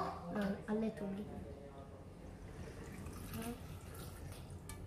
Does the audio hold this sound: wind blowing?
no